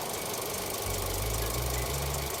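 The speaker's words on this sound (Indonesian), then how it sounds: "Sebelum aku spill, coba kita dengerin mesinnya kayak gimana ya." The engine of a 2024 Mitsubishi Xpander Ultimate automatic runs at a steady idle, a continuous close low hum and drone with a slight shift in pitch midway and no talking.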